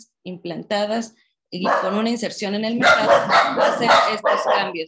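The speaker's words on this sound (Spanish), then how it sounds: "Ah, una disculpa por los ladridos." A dog barks repeatedly in short, loud bursts close to a microphone during a Spanish-language online conference talk, the barks overlapping someone speaking steadily.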